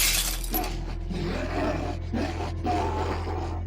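A brick thrown through a window sends glass shattering in a loud crash, with shards continuing to break and tinkle over a low, steady drone and a dramatic roaring backdrop.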